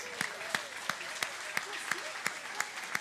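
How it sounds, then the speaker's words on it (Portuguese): A church congregation at a celebration service claps for the young people in a steady, rhythmic beat of evenly spaced claps, fairly soft, with faint music and voices murmuring underneath. "Vamos aplaudir esses jovens lindos"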